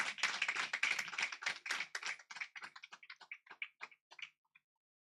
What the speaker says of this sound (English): Please let us give each other, give motherhood, womanhood, a round of applause.